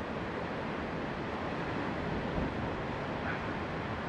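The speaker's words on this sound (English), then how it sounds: "Tide is well out. It's windy. And there's some big breakers coming in." Steady roaring surf of big breakers on the beach at Hope Cove, a sheltered cove, at low tide, with constant wind rushing over the microphone and no voices.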